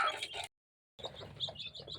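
Chicks beside their mother hen in a backyard coop during the rainy season give soft, rapid cheeping calls, briefly cut off by a moment of silence before resuming.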